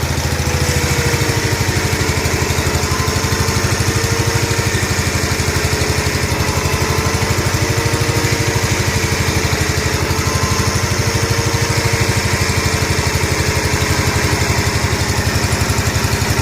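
A John Deere 140 H1 garden tractor engine runs steadily with the throttle turned up a little, giving a loud, continuous, even drone with a buzzy mechanical edge and no pauses.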